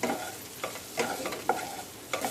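Kasuri methi stirred into an onion-tomato masala in a pan for chicken do-pyaza: a spoon scrapes and clacks through the thick mixture in several irregular strokes over a low simmering sizzle, close by, with no one talking.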